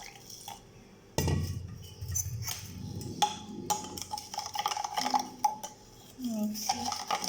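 Milk being stirred in a bowl with a spoon while mixing a no-cook snack, giving close clinks and scrapes of utensil against the dish at an uneven pace, with faint liquid swishes and a few brief vocal sounds.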